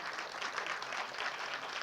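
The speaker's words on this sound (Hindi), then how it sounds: "एक बार जोरदार तालियां" Steady, dense applause from an audience at a film trailer launch event, loud and continuous throughout with no voices standing out.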